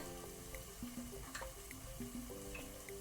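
Masala and tomato frying on a low flame for pav bhaji, a quiet steady sizzle with a few soft stirring clinks and scrapes, close and faint.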